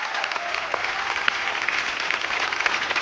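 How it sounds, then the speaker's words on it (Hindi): Loud, dense applause fills a comedy talk-show studio as the audience claps continuously for about three seconds, with a few sharper individual claps standing out. "जोरदार तालियां"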